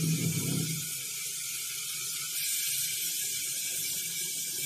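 Sprouted mixed-lentil curry frying in a pan gives a steady, dense sizzle and hiss throughout, with a brief louder burst of activity at the start; no one talks.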